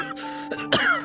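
A man coughs and clears his throat in a few rough, close bursts, with no other sound around them.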